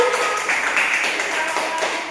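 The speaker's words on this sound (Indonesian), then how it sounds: "Baik, semuanya tepuk tangan." Classroom clapping from primary school pupils during a singing activity, a busy patter of many hands, with voices chattering over it throughout.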